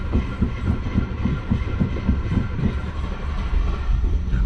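An old Rolls-Royce or Bentley engine cranks over on the starter, a rhythmic, chugging turnover pulsing steadily for several seconds up close without catching.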